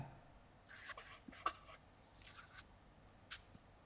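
A pen scratches softly on a chart in short, quiet strokes with small pauses, close and faint against a hushed room.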